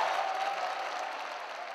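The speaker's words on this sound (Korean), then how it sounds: "누군가 등장하자 환호가 쏟아집니다." A crowd at a packed large-scale event hall claps and cheers as a company group chairman appears, a steady, soft, distant wash of applause with no distinct individual claps.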